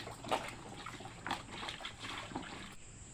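Water drains from soaked mangoes, trickling and splashing in small uneven pulses, a soft nearby dribbling with no voices.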